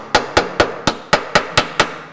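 A hammer and dolly work dents out of sheet metal, giving eight sharp, evenly spaced metallic strikes in quick succession, loud and close, with each ring dying away fast.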